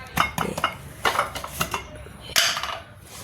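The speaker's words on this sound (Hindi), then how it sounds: "ये अब हम इन मिर्चों को इस जार में डाल देंगे।" Cut chilies being tipped into a jar, with a series of close clinks and clatters of utensils against glass, irregular knocks followed by a pause and a final louder clatter.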